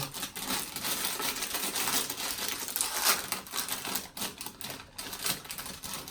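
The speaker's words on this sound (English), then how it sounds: "inside some tin foil packaging which is quite crinkly, quite rustly" Steady, close crinkling and rustling of tin foil packaging inside a cardboard box of Shapes snack crackers, continuous and busy with small sharp crackles throughout.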